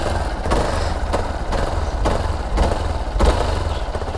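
A motorcycle engine idling nearby with a steady low chug and a regular pulsing thump roughly every half second, running alone without voices.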